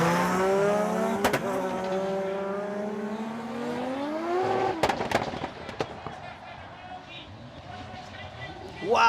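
Drift cars battling at Formula Drift Japan, with Naoki Nakamura's car among them, engines wailing through long rising and falling revs, tire noise and sharp pops and bangs, while a commentator talks over the action.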